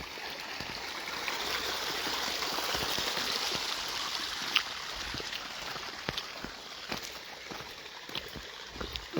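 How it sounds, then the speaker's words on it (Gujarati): Steady rushing water flows continuously from a borewell on a farm, with occasional small splashes and knocks scattered through. "પાણી હાલે રહ્યું બોરનું"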